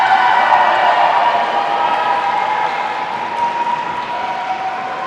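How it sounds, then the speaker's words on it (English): Arena crowd at a LudoSport lightsaber combat championship in Manchester, a steady, loud wash of applause and cheering that holds for several seconds and eases slightly toward the end. "I do love how loud the crowd is every single time for Abigail."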